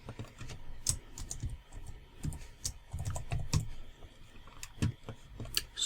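Typing on a computer keyboard while entering product details such as an SKU, heard as rapid, irregular clicky keystrokes, close and steady throughout, with no talking.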